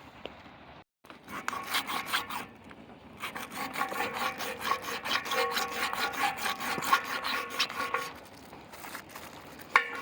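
A bar of scented wax is rubbed back and forth along a metal grind rail, making steady close rasping strokes for several seconds after a brief pause, with no talk.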